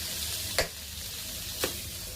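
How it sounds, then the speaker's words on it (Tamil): Cubed paneer toasts in butter in a pan with a steady, moderately loud sizzle, broken by two sharp spatula knocks about a second apart. "பன்னீரை பட்டரோடு நல்லா கொஞ்சம் டோஸ்ட் பண்ணி எடுத்துக்கலாம்"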